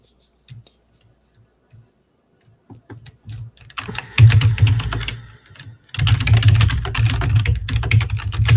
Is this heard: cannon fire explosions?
no